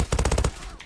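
A light machine gun in the game Zula fires a quick burst of about six loud, evenly spaced shots, then cuts off into a short decaying tail.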